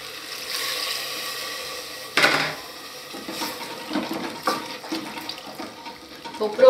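A little water poured into cow tongue cooking in a pan, a hiss and splash that starts abruptly and then settles into bubbling and light clatter, close by.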